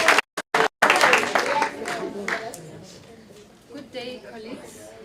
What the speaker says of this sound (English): Round of applause, let's welcome everyone.